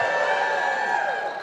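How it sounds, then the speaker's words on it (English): A crowd at a press conference on a state energy bill gives a short, continuous burst of cheering and applause, loud and steady before easing slightly at the end. "Let's give them a big round of applause."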